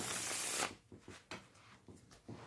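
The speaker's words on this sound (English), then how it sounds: "I shouldn't have actually shuffled them" A deck of playing cards is riffled in a loud burst, followed by a few softer taps and card handling sounds nearby, with no talking.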